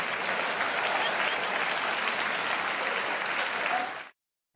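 Steady, dense audience applause at a Nate Bargatze stand-up comedy show, loud and continuous for about four seconds before cutting off abruptly into silence.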